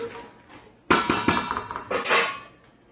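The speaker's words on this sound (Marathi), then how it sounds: "हे बघा सर्व सुकामेवा भाजून या मोठ्या भांड्यात ठेवलेला आहे, चांगलं असं मिक्स करून घेते" Roasted dry fruits are stirred together in a large metal pot for sugar-free date laddoos; after a quiet start, a spoon clatters and scrapes against the pot in several sharp, close knocks and rattles.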